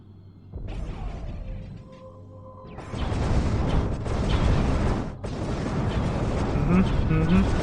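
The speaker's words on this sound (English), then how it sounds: "Lots of explosions." Kamikaze ships slam into a target in the video game Homeworld, setting off a dense, loud barrage of booming explosions after a quieter lead-in, with a brief dip partway through.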